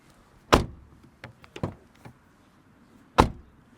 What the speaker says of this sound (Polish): Sprawdźmy teraz, jak się zamykają drzwi.